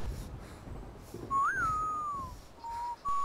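A player character whistles in the survival game DayZ, giving a single rising-then-falling whistle followed by two short steady tones. It sounds close and clear over a faint noisy background.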